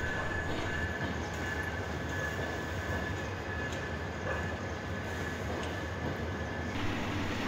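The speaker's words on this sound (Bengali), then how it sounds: "একতা এক্সপ্রেস ট্রেনটি 7 নম্বর প্ল্যাটফর্মে প্রবেশ করছে" The Ekota Express, running with LHB coaches, rolls into platform 7 with a loud, steady rumble of wheels and a thin sustained squeal, close by and without speech.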